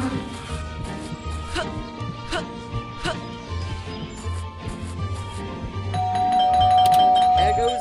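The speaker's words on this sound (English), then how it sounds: "There goes that stupid bell again." A doorbell rings in the Scary Teacher 3D video game, sounding as repeated chimes over game music and sound effects, with a longer tone near the end.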